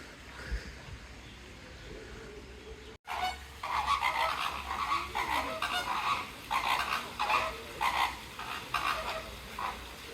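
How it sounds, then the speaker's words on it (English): Greater and lesser flamingos calling in a zoo enclosure, a flock giving loud, repeated nasal honks in overlapping goose-like bursts, close and continuous after a brief quiet start. "Love the way the flamingos call and twitch their heads."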